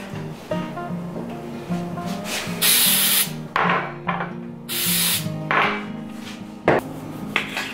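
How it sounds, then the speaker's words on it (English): Several short hissing bursts of cooking spray onto small jars, close up, separated by pauses, over faint clinking and handling noises. "I'm going to just spray these little jars just in case I do have enough."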